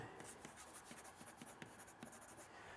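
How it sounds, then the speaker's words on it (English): A pen writes a label onto a countertop core panel in a DIY countertop build, giving quiet, close scratchy strokes in short bursts across a few seconds. "So I'm gonna write bottom on it"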